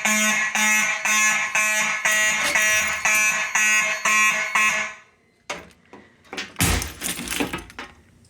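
A building fire alarm system sounds during a test, with loud repeating pulsed horn tones for about five seconds, then stops and gives way to clatter and handling noises.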